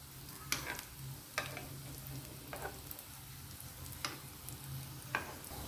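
Carrot dal vadas fry in hot oil after being turned, giving a faint steady bubbling sizzle with occasional sharp pops and crackles spaced a second or so apart, alone without talk.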